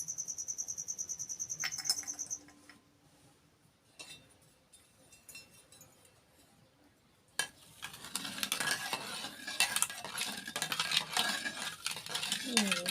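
Curd, milk, sugar and powdered cardamom stirred in a bowl, heard as soft scraping and sloshing that starts faint and grows into steady, close swishing near the end.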